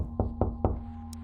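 Three evenly spaced, solid knocks on a wooden cabin door in the horror game Re:Turn - One Way Trip, fairly close and distinct, then a low hum and a brief faint high tone.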